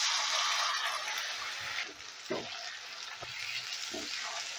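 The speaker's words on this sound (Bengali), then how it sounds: "এবারে এই মশলাটাকে আমি মিনিট 2-এর মতন একটু কষিয়ে নেব।" A ground spice paste fries with browned onions in a pan, giving a steady, bright sizzle broken by a few stirring scrapes and clinks, fairly close and moderately quiet.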